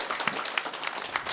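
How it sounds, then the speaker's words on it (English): An audience at a campus talk on ghost stories and folklore gives the speakers a brief round of applause, scattered claps from a modest crowd heard at moderate distance. "big round of applause for Libby and Steve"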